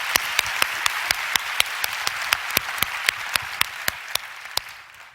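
Clapping from a congregation at a church prayer meeting: sharp, evenly spaced claps in a steady rhythm over a soft crowd wash, continuing at a regular pace before tapering at the end.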